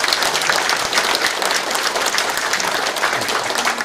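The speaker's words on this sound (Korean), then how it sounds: "이천시 시의원님들께도 큰 박수 부탁드리겠습니다." An audience at a town-hall meeting with the city's mayor in Icheon, South Korea, gives loud, dense applause that stays even and sustained throughout without a break.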